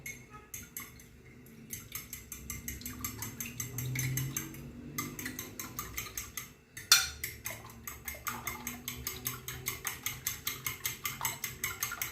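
Three eggs beaten with a fork in a bowl for a quiche, a quick run of rhythmic clinking taps of metal against the dish, with a short pause partway through, close and fairly soft.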